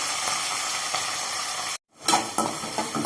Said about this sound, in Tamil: வெங்காயம் வதங்குற வரைக்கும் நல்லா வதக்கிக்கலாம்